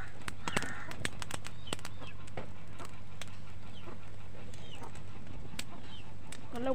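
A young chicken chick squawks repeatedly in short, sharp cries over a steady low background hum, with scattered clicks and no talking.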